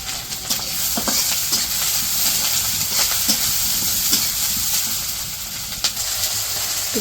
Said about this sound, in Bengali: পেঁয়াজ কাঁচামরিচ দিয়ে দিল।